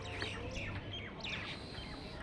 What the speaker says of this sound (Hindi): यहाँ पे सिर्फ चिड़ियों की और बर्ड्स की आवाज़ आ रही है।